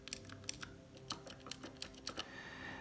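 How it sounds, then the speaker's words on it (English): Faint, quick clicky mechanical keyboard switches tap in an uneven rhythm, sharp little clacks with a low hum underneath. "we have the clicky switches, which make a sound."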